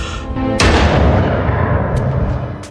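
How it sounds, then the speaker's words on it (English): A single loud, sharp gunshot in a film scene, with a booming report that trails off into a long, rumbling reverberation, preceded by a brief low sustained tone. "Suddenly, a gunshot rang out, and Min Ji-hyen fell."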